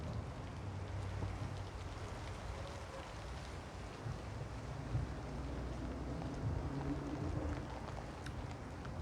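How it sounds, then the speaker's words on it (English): Heavy rain pours down outdoors in a steady, dense wash that holds at an even loudness throughout, with no voices over it. "Oh my goodness, this rain is coming down, guys."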